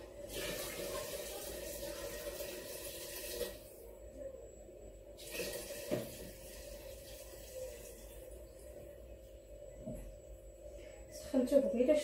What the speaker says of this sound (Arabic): عاد غنزيد نزيد عليها الماء طيب